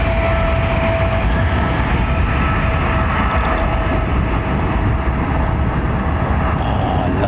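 Airplane departing London Heathrow Airport, a loud sustained jet engine roar with deep rumble, steady and powerful throughout and heard alone.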